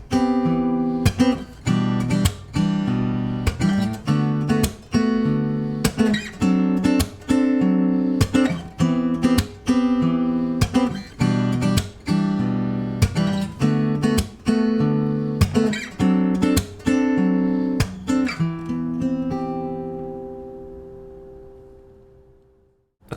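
Major 7, minor 7 and dominant 7 chord inversions played with a steady rhythmic groove as a sequence of rhythmic strummed or struck chords, repeated hits with short gaps, close and solo, ending on a chord that rings out and fades.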